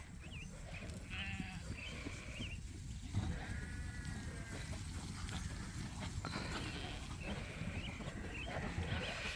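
Sheep bleat repeatedly over a busy outdoor farmyard background, with several wavering calls close by and others overlapping across the scene.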